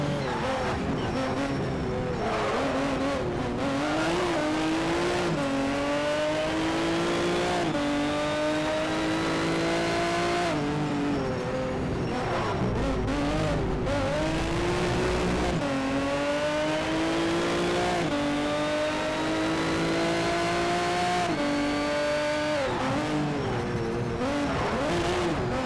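Racing car engines in Need for Speed Shift 2, roaring loudly and continuously with repeated rising pitch sweeps through gear changes, plus occasional tire squeal and skidding over the sustained engine drone.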